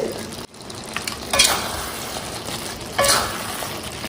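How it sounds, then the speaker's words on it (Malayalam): Mutton stirred into masala in a pan for Kerala-style mutton roast, with a steady sizzle and two louder bursts of scraping and frying as the spoon turns the meat. "ഇനി നമുക്ക് ഇത് ഈ മസാല കൂട്ടിലേക്ക് ചേർക്കാം. നന്നായി ഒന്ന് ഇത് യോജിപ്പിച്ചെടുക്കാം"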